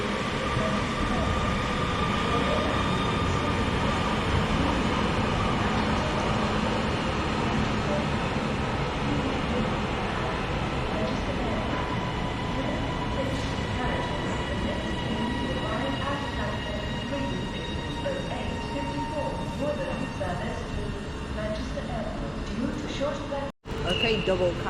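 A Class 331 Northern electric multiple unit departs Bolton station while another train arrives, giving a steady, continuous rumble with faint tonal hums throughout, fairly close, with people talking over it.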